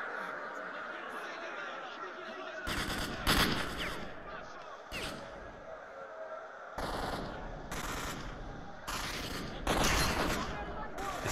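Shotgun fire in the video game Stalker: Shadow of Chernobyl comes as several loud, harsh blasts spaced a few seconds apart, with people talking and chuckling between them.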